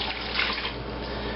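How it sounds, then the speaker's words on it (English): Water pouring into the lower part of a broiling pan in a kitchen while preparing meat loaf, a steady splashing rush that stays even throughout, close and alone. "take my broiling pan and place a good sum of water into the lower portion"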